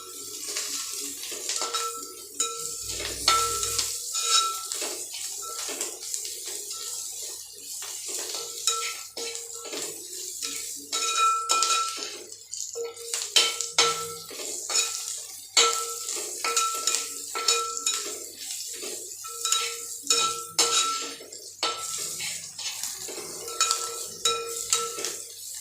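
Vegetables with salt sautéing in a pan as a utensil stirs them: repeated close clinks and scrapes against the metal over a faint sizzle, continuing for about twenty-five seconds with no voices.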